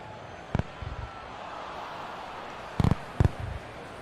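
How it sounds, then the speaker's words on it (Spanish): Fireworks pop at a baseball stadium during a Yankees vs. Astros game, several sharp bursts in quick clusters over steady crowd noise. "le van los fuegos artificiales"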